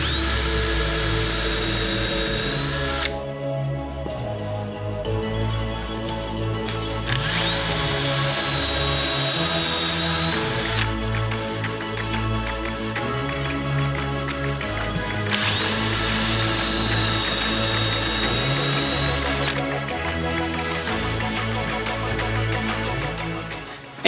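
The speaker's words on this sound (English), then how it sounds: "take a 3/8 inch Forstner bit and drill a hole in each of these 5 crosses" A power drill with a 3/8 inch Forstner bit whines and grinds through wood in long bursts, rising to a high pitch when it spins freely between cuts, with mechanical rattling throughout.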